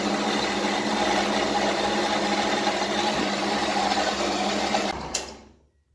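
A bandsaw cuts through steel exhaust pipe for an LS1-swapped Cressida, giving a steady, continuous rasping whine for about five seconds before the blade stops and the sound dies away.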